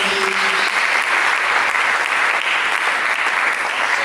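A church congregation breaks into applause, a loud, continuous wash of clapping that stays even and sustained throughout, with a faint voice briefly at the very start.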